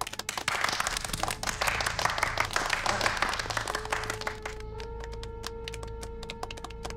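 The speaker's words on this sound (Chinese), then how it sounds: "鼓掌！" A crowd bursts into dense applause, the clapping loud and sustained for several seconds before giving way to a steady tonal drone.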